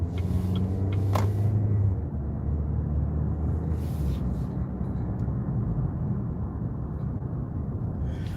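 Inside a moving car, a steady low engine and road rumble with tire noise, a brief louder whoosh near the start, no talk.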